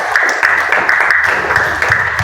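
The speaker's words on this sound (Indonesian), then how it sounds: "tepuk tangan dulu" A classroom of students applauds with dense, continuous clapping, steady and fairly loud throughout.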